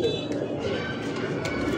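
A white Satin pigeon coos close by in low, rolling notes while someone talks over it.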